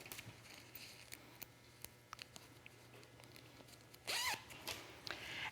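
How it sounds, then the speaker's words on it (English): Zippers on a towel made into a tote bag are unzipped in a close, quiet scrape, with a louder burst of zipping near the end followed by a few brief rasps. "all you have to do is unzip the zippers"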